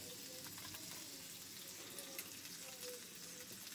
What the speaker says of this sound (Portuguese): Gordurinha caindo no coletor.